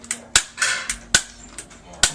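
A Nerf toy revolver fires foam darts in a backyard-style battle, giving about five sharp, close plastic snaps spaced irregularly with brief whirring gaps between them.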